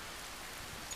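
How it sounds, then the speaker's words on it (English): Rain in the motorcycle racing game RIDE 4 on a wet track, a steady, even hiss of falling drops filling the moment with no voices. "It's raining as well."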